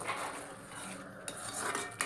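Prawn masala with onion, ginger and garlic sautés in a pan, a soft steady frying hiss broken by a few sharp scrapes and clinks of a spatula against the metal.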